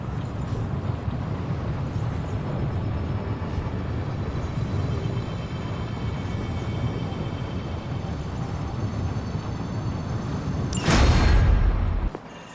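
A single loud booming explosion in Marvel's Midnight Suns erupts near the end, a sudden broad blast lasting about a second over a quiet game ambience.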